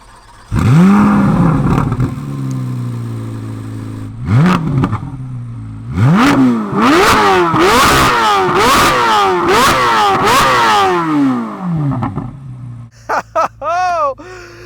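A C8 Corvette Z06 V8 revs hard in a string of sharp rising blips, loud and close, with brief lulls between pulls and a burst of quick revs near the end, a voice faintly present.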